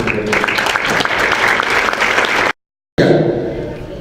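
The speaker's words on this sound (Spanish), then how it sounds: "Recibámoslo con un caluroso aplauso" Warm applause from a panel audience greeting a speaker from the Escuela Libre de Derecho, loud and continuous, cut by a brief dropout before resuming.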